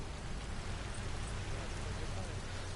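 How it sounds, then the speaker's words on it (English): Rain falls steadily in the video game Metal Gear Online, a soft, even hiss of drops that stays faint and unbroken throughout. "Now it's raining."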